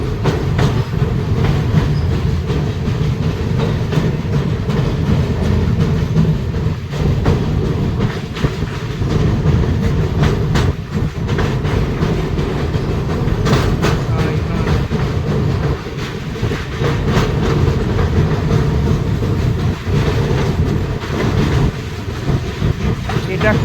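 Rupasi Bangla Express rolling along the rails as it approaches the Kansai river crossing near Medinipur, a steady loud rumble with rhythmic clickety-clack of wheels throughout, heard from on board.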